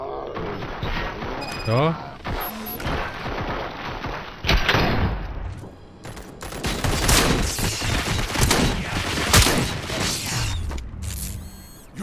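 Guns fire at will at a cuckoo egg planted on a station shield, loud bursts and mechanical clanks under shouted voices, with heavier rapid volleys building toward the end.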